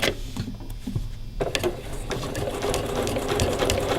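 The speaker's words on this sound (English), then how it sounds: "I want to begin sewing this down" Sewing machine stitching mitered binding down on a placemat, a steady mechanical whir that runs continuously, dense and close, with a few light clicks over it.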